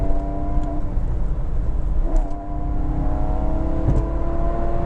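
Steady engine drone inside a moving Porsche 997 with six-speed manual on a motorway, a continuous low rumble with whirring tones and road noise, no talking.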